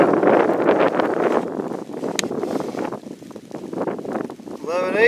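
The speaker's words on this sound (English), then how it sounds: "Yeah, that wind's making it miserable." Gusty wind blows across an off-grid homestead, buffeting the microphone in loud, rough surges that rise and fall over a few seconds.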